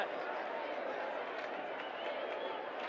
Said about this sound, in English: Crowd here is going wild